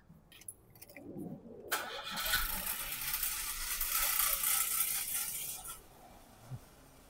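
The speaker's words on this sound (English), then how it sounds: "I'm quickly start the car and have a look the" A Ford Focus EcoBoost with a turbo boost pressure fault cranks and fires up nearby after a few quiet clicks, then settles into a loud, steady idle that fades back down near the end.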